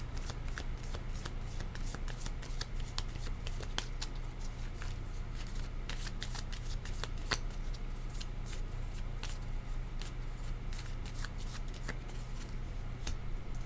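Playing cards being shuffled steadily for a card reading, a continuous close riffle of quick flicks and rubbing over a low background hum.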